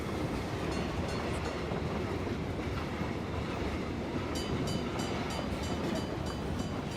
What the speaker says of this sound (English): There, another train coming.